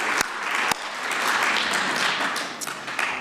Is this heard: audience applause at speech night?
yes